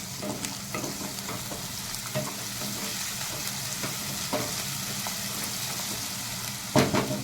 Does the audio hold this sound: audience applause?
no